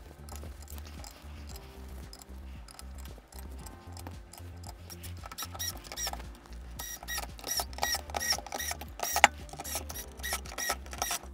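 Screws being driven in to mount fans onto a DeepCool LT720 radiator give a run of close, small clicking and ratcheting ticks, sparse at first and then quicker and denser with a few sharper snaps toward the end.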